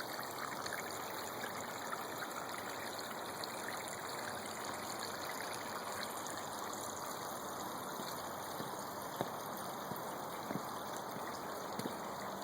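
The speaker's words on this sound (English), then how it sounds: "Great water feature." A garden water feature outside a log home in Gig Harbor, with water trickling and splashing in a continuous, even flow, and a constant faint hiss and hum in the background.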